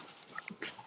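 A dog whimpers in a short, thin burst of high whines and small yips, close by with a soft room noise behind it.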